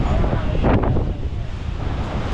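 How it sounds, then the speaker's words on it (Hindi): Strong gusting wind on a mountain road buffets a parked Thar SUV, a loud broadband roar that swells and churns throughout with no talk over it. "इतनी तेज हवा है"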